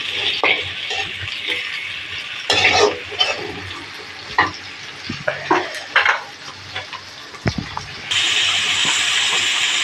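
Potatoes with onions and spices frying in a pan, with a steady sizzle and repeated scraping stirs of a utensil against the metal, close up, then a louder hiss swells near the end.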